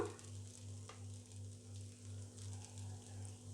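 Bottle gourd dosa spread thin and round, frying in oil on a hot pan, gives a steady close sizzle with a faint pulsing hum underneath, without voices.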